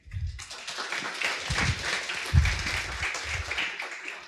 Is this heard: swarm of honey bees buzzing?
no